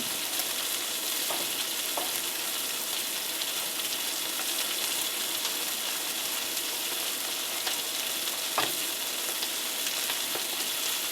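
Food browning in a frying pan for a Honduran breakfast, giving a steady, dense sizzle throughout with a few faint clicks and light scrapes, close and alone with no voices.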